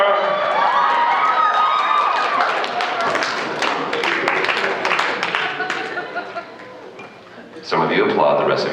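An audience at an anime convention voice actor Q&A panel breaks into clapping and cheering with shouts, loud and dense, easing off before a fresh burst near the end.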